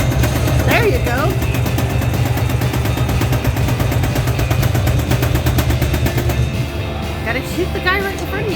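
Rapid video-game gunfire from shooting enemies, a dense continuous stream of shots and mechanical noise filling the whole stretch, with voices talking over the action.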